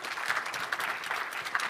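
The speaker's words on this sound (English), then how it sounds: "Please, a round of applause." A crowd at a high-level health forum claps with steady, dense applause that keeps an even level through the brief stretch.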